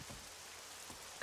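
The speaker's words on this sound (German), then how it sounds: "Und es regnet schon wieder." Rain falls in the survival video game 7 Days to Die, a steady, faint patter that hisses evenly for a brief moment with no voices.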